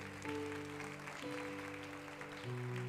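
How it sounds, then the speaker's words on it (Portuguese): Congregation clapping in a church service in Betim, a steady broadband patter running throughout with sustained organ or keyboard chords ringing underneath and shifting pitch. "Você pode dar uma salva de palmas ao Senhor?"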